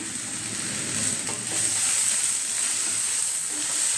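Masala okra fries with low oil in a thick cast iron pan, a steady close sizzle and hiss with soft stirring scrapes running throughout, no voices.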